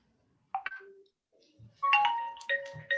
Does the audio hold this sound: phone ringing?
yes